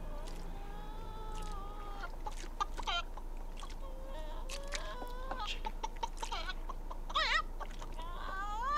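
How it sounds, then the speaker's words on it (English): Chickens cluck and squawk on a farm in the 1985 film Return to Oz, a busy stream of short clucks and rising calls over a low steady hum, continuous for several seconds. "Chicken."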